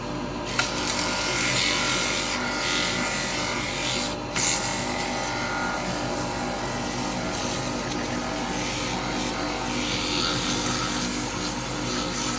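Soft wood spinning on a lathe while being sanded with 180 grit sandpaper gives a steady, loud, continuous abrasive hiss. It runs unbroken for about twelve seconds with only one brief dip and no speech.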